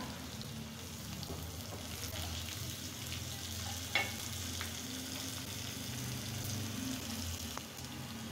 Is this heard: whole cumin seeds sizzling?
yes